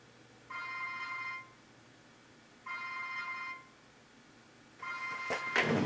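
Muffled phone ringtone sealed inside a closed metal ammo can with a rubber-gasketed lid: two even rings about a second long with a pause between, then a third ring cut off by handling noise, faint and distant.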